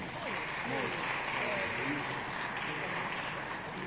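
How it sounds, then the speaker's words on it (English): A conference audience at the opening of an Africa food systems forum claps steadily and moderately loudly, with voices talking over the applause. "A round of applause, please."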